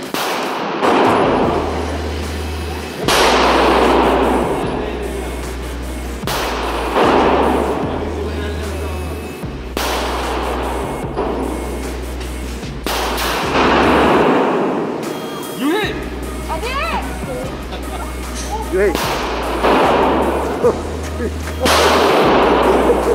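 Gunshots ring out at an outdoor gun range, several heavy, booming reports spaced a few seconds apart, each followed by a long echoing tail, with people talking between shots.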